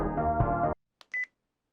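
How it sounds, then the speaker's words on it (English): A phone ringtone in a visual novel game plays as a short, bright electronic melody, cut off abruptly and followed by a couple of brief, faint beeps. "Oh no, it's this goddamn ringtone."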